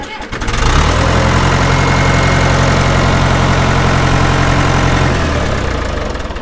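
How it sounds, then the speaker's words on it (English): A John Deere tractor engine cranks briefly, fires right up and settles into a steady, loud, low rumbling idle that runs unbroken at close range. "I'll show you guys it firing up again here."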